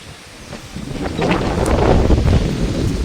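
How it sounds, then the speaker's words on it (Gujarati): Strong wind buffets the microphone, rising from a low rumble into loud, blustery gusts that roar on to the end. "અત્યારે ચાલુ જ છે પવન તો"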